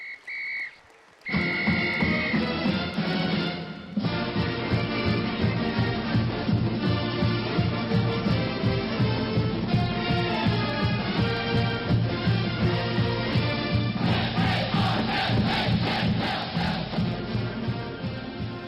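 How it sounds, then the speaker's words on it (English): Audience at a football foundation's annual awards dinner applauding, dense sustained clapping and cheering from a large crowd that swells again near the end. "Jaden Harrison, a round of applause."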